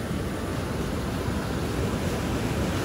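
Clear mountain river water rushes over a flooded dam step by a terrace, a continuous, even, fairly loud roar with no talk.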